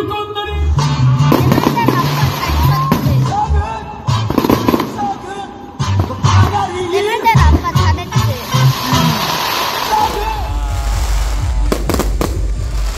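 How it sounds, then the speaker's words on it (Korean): Fireworks burst at an outdoor trot song festival, a rapid series of loud booms and crackles close by, with crowd voices mixed in. "불꽃놀이"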